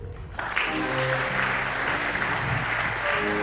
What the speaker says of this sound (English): A round of applause for Technical University.